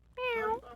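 A single drawn-out meow voiced by a person imitating a cat, close and clear, rising then falling over under a second.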